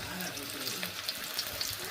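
Onions and green chillies frying in a pan, a brief close, even sizzle with a few faint pops and crackles.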